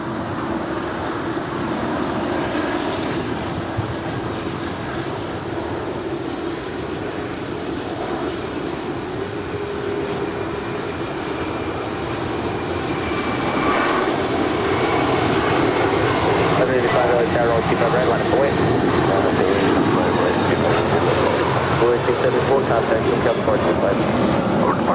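An Antonov aircraft on runway 25 right at LAX gives off a broad, sustained engine roar that swells louder after the midpoint as it powers up for takeoff, heard from a distance with outdoor background noise.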